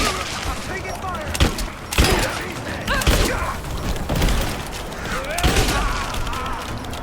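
In Rise of the Tomb Raider, bursts of video game gunfire crack out in a rapid, irregular fusillade with sharp impacts and clattering mechanisms. Voices shout between the loud shots in a chaotic firefight.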